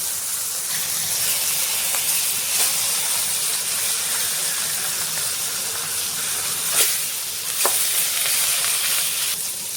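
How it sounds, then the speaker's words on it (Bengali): Rohu fish heads fry in hot oil with a steady, dense sizzle and hiss lasting throughout, plus a few sharper crackles and pops, close and fairly loud with no talking. "তেল গরম হয়ে গেছে, এবার মাছের মাথাগুলো দিয়ে দেবো।"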